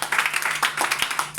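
Church congregation clapping in praise during a Sunday service, a brief burst of quick, loud, fairly rhythmic handclaps from a nearby crowd.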